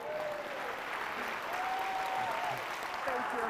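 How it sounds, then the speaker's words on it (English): Steady hand clapping from a church congregation, a dense continuous wash with faint voices and a high cheer or whistle rising over it, lasting several seconds at even volume. "Everybody give the Lord a hand clap."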